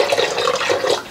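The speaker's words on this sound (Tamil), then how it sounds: "உங்களுக்கு தேவையான அளவு தண்ணி விட்டு இதை நல்லா கரைக்கணும்." Water pours and splashes steadily into tamarind soaking for a blended fish curry, close and fairly loud, with no talking.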